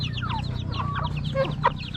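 Native chickens cluck repeatedly at close range over a steady low mechanical hum, with a few sharper squawks mixed in.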